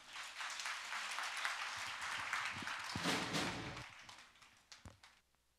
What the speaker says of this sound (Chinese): 我们拍手欢迎这个广告片